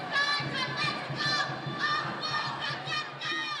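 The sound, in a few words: crowd of protesters marching in downtown Los Angeles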